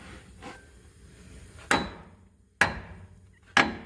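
Three loud, sharp blows of a large hammer on metal on a Jeep Sahara Unlimited, spaced about a second apart, each ringing briefly before fading, with a softer knock near the start.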